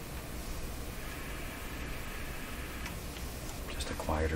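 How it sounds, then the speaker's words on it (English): A Nordmende Caruso console radio with a tube pulled out gives off a steady, even hiss with a faint ticking texture, holding level throughout before a brief soft knock at the very end. "Just a quieter hiss."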